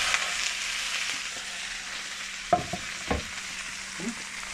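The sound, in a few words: cabbage pancake frying in a pan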